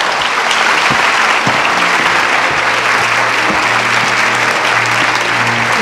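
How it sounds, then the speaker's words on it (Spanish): Loud, sustained audience applause fills an evening event welcoming a guest onstage at the Mujeres 360° program, dense steady clapping with no talk over it. "Un aplauso para ella, por favor."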